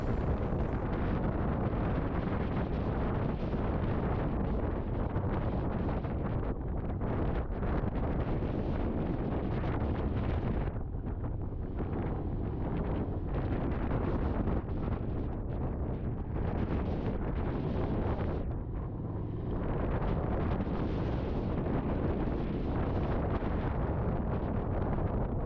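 Strong wind buffeting a microphone on a mountain during an off-road motorcycle ride on the Montagne Noire, a constant, heavy roaring rumble that swells and dips in gusts throughout.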